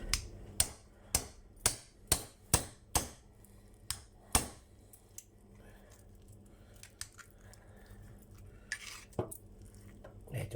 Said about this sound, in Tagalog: Kailangan pukpukin ng martilyo.